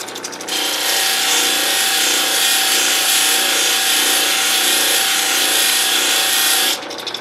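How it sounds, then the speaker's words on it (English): A 1200 grit wheel grinds and polishes a Lightning Ridge crystal opal in a steady, loud, continuous rasping whir that runs for several seconds with no talking. "now we're up to our 1200 grit wheel here"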